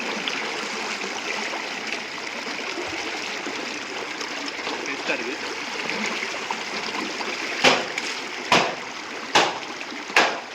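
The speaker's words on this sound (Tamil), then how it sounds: "ஓடுற தண்ணி" Steady running water streams and trickles close by, with a few sharp splashes near the end.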